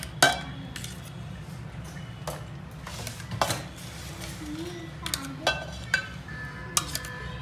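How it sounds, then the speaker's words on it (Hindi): A spoon scoops sugar-sweetened yogurt over dahi vadas, giving scattered light clinks of metal against a bowl and a few soft wet plops over a low steady kitchen hum. "इस तरह से अच्छे से हमें डालना है दही"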